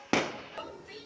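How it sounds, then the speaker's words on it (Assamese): A KitKat firecracker bursts once during Diwali celebrations, a sharp nearby crack followed by a fainter second pop, with a voice talking around it. "এয়া এইটো এটা ভণ্টিয়ে কিটকাট ফটকা ফুটাব লৈছে দেখিছেনে, জ্বলি আছে।"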